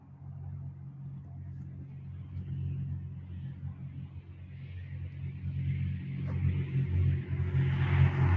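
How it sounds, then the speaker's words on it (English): Cars on the road make a low, continuous rumble that swells as vehicles pass nearby, growing louder toward the end. "The sound is the cars on the road"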